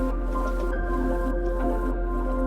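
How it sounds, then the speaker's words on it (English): Crushed garlic cloves and heaping spoonfuls of tomato paste drop into softened sautéed vegetables for a vegetable lasagna sauce, making a short wet squish over a steady, loud stovetop hum. "add 5 crushed cloves of garlic and 2 heaping tablespoons of tomato paste"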